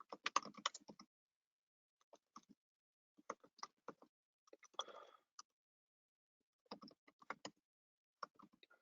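Computer keyboard typing comes in short, close bursts of clicky keystrokes separated by brief quiet pauses, in a quiet room with no speech.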